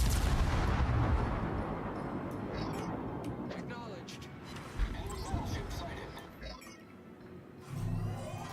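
Heavy naval gunfire from a Des Moines-class cruiser and other warships in World of Warships, with loud booming salvos at the start and again near the end, under continuous game noise and a talking voice.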